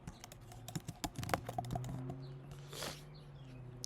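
Typing on a computer keyboard while entering a word in Photoshop, a run of close, crisp key clicks that bunch together early and then thin out, with no talking.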